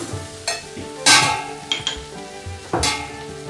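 Asparagus stalks and leafy greens fry in a hot pan, with a steady sizzle broken by a few sharp clanks and stirring scrapes of a utensil against the metal, close and fairly loud, no voices.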